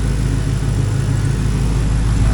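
A 2008 Pontiac G8 GT with its L76 V8 runs through a straight-pipe exhaust with the mufflers cut off, giving a loud, deep, steady rumble at idle that sounds rowdy and unmuffled.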